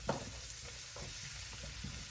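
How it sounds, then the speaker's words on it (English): Onions sauté in a pan for a cheeseburger rice casserole, giving a steady close sizzle broken by soft scraping stirs and one sharp clink near the start. "We're going to go ahead and get that sauteed till it's nice and tender."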